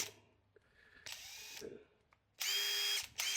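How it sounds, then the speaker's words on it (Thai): An electric drill fitted with a 6.5 mm hex bit runs at maximum speed in two loud, steady whirring bursts, followed by a brief third spurt, with quiet pauses between them. "พร้อมเจาะแล้วอะเจาะความลึกก็ให้มันมิดพอดี"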